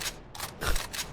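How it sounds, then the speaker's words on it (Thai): A gun reload plays in a video game with an HD weapon mod, a quick series of four crisp, close mechanical clacks and clicks in an uneven rhythm with no talk. "นี่เสียงรีโหลดเท่มากอะ"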